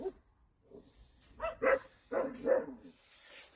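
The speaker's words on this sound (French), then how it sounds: "Oh les chiens." Dogs barking nearby during work on the partition behind a van's passenger seat, a handful of short barks in two quick pairs, moderately loud against a quiet room.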